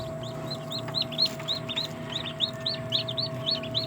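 Native chicks hatched that morning peep in a quick, steady stream of high chirps, close by, over a low constant hum.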